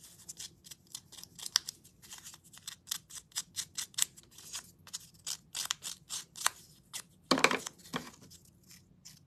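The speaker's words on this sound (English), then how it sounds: "I just went around the edge and roughed it up with scissors" Scissors rough up the edge of a stained craft piece with a quick series of small, crisp snips, close and fairly quiet, one louder cut near the end.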